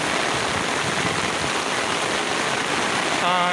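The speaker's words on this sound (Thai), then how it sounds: "นี่ฝนก็กำลังลงหนักเลยครับผม" Heavy rain pours steadily onto an open, unroofed backyard vegetable plot growing salad greens, a dense continuous hiss at close range with no break, and a brief voice enters at the very end.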